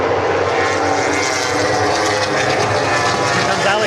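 A MotoGP racing motorcycle roars past on a trackside circuit during a session, a loud, sustained high-revving engine wash filling the whole moment up close.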